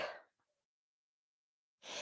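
A single sharp sneeze bursts out at the start, followed by a brief faint sniff and near silence, then a second loud sneeze or exhale at the end.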